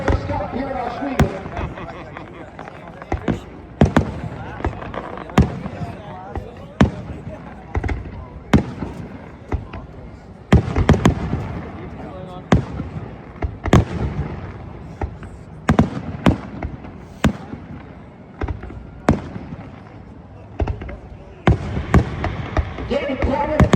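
Fireworks burst around a victory lane celebration at Oshweken Speedway after a World of Outlaws race, sharp repeated bangs and crackles at an irregular pace, loud and fairly close, over steady crowd and track noise with some talk.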